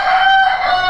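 An Aseel rooster crows close and loud, a single sustained, strained cry filling the whole second with no other sounds.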